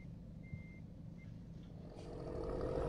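In Euro Truck Simulator 2, an Iveco Hi-Way 420 three-axle dump truck reverses: a few thin reversing beeps sound early, then the engine roar swells louder and steadier toward the end.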